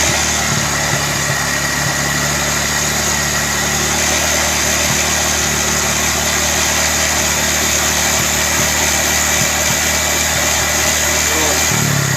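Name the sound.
Honda Vario 150 scooter engine revving and idling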